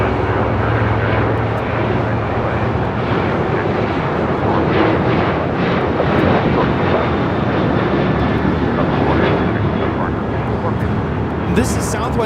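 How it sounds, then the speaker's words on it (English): A Southwest Airlines Boeing 737-800 roars down the runway on takeoff at LAX, a broad, rumbling jet noise with wind buffeting the microphone, swelling slightly and then holding steady. "This is Southwest Airlines 450 taking off to Denver, Colorado on a 737-800"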